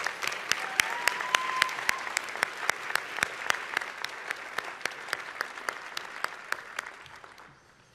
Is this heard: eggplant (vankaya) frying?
no